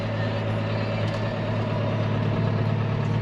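A front wheel assist tractor's engine idles steadily with a low, even diesel rumble, close by and constant throughout.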